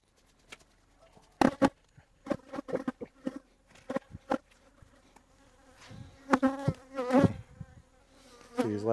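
Honeybees defending their hive buzz in quick passes, several close loud swoops cutting in and out over a quiet outdoor background, with a denser cluster of buzzing near the end.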